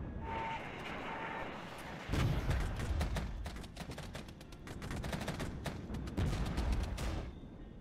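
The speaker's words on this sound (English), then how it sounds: "I'd rather call in the artillery." Artillery fire pounds in the Regiments video game, with a dense barrage of sharp shots and heavy booms, a bigger impact near the middle, and a steady rumble of battle underneath.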